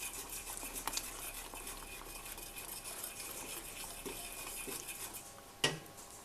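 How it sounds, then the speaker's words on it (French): Butter and fleur de sel are being stirred into hot caramel off the heat with a utensil, producing soft, steady scraping and occasional clinks against the pot, with one sharper knock near the end. "là je vais pouvoir ajouter le beurre avec la fleur de sel. Continue à mélanger."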